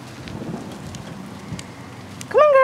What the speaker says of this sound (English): Oh, girls, it's starting to rain. Come on, come on, come on, girls. Come on, come on. And I hear thunder.